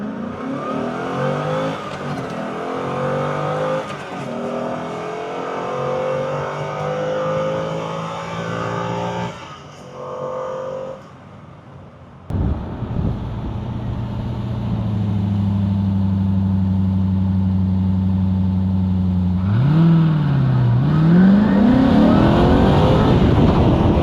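A Corvette C4 ZR-1 engine is revved hard on throttle, rising through several loud, sweeping pulls before settling into a sustained high drone and a final sharp climb, all close and loud with no talking.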